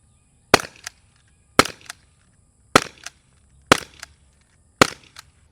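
Five sharp, loud cracks from a 50 caliber Defense Airguns TR50 or TP50 air rifle shooting lightweight aluminum balls, spaced about a second apart, each followed by a faint impact knock; no talk.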